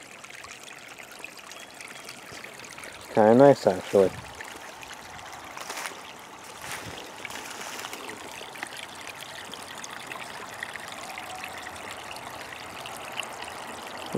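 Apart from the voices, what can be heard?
small creek trickling in the woods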